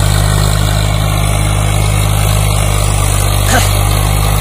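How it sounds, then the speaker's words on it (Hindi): A Swaraj 744 FE tractor engine runs steadily at high revs, a loud, constant low drone with a slight rise near the end, with a voice barely audible underneath. "फुल आरपीएम दे नहीं रखे ड्राइवर ने, अभी ट्रैक्टर बिखर जा। साउंड देखो कितना क्लियर साउंड है"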